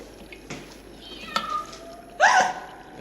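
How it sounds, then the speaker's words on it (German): A white cat gives a couple of short meows amid quiet background rustling, the clearest cry near the end, fairly close and moderately loud. "Die weiße Katze, von der ich geträumt habe."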